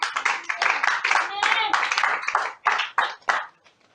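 A church congregation claps in quick rhythmic bursts to acclaim the Lord, mixed with a loud voice preaching or singing over the clapping, which fades near the end.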